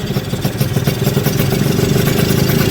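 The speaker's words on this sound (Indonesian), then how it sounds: "Tuh suara sernya adem, suara mesin rumah kopling tadi nggak ada kan" A Yamaha F1Z-R two-stroke motorcycle fitted with an RX-King cylinder idles close by, a loud, fast, even putter with slight clatter that holds steady throughout.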